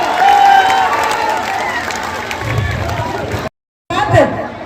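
A crowd applauds at an outdoor political rally on a school sports ground, with steady clapping and crowd chatter, loud and close, briefly cut to silence before resuming.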